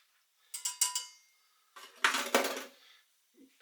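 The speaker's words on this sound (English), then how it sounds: "So I'm going to add it slowly at first and then mix it in." Flour is being mixed into wet batter for a British treacle sponge pudding. A spoon clinks and scrapes against the bowl in two short bursts, with a faint tap near the end.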